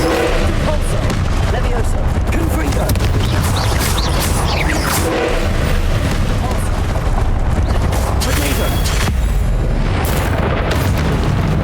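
Spell explosions in a Harry Potter wizarding game, with a Confringo blast among booming, crashing bursts over a sustained loud roar, while a voice calls out throughout.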